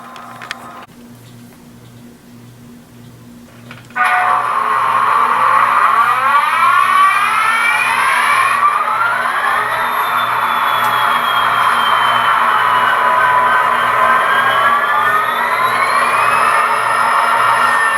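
A programmed model train engine sits idling with a faint pulsing tone. After a few seconds a loud, steady motor whine starts, with rising and gliding tones over a rhythmic ticking.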